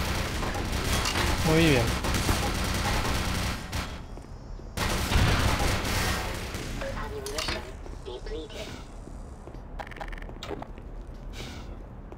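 A turret fires in Black Mesa in loud, sustained bursts with booming impacts, then fades to scattered shots and rumble while someone speaks briefly.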